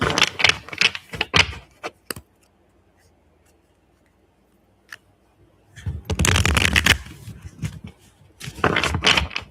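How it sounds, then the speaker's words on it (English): Tarot cards shuffled up close in loud, crisp riffling bursts, one at the start and two more toward the end, separated by a near-silent pause; no speech over them. "Let me kind of shimmy these cards randomly back in the deck."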